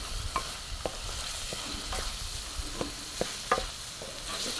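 Milk added to a boiling pot and stirred, with a bubbling, sizzling bed of sound and repeated close scraping knocks of the spoon against the pot at a steady, uneven rhythm.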